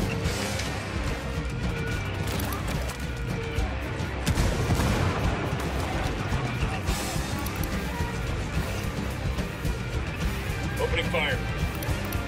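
Gunfire in Ghost Recon Wildlands, dense bursts and crackling shots rattling continuously at mid distance with heavier impacts, under voices talking throughout.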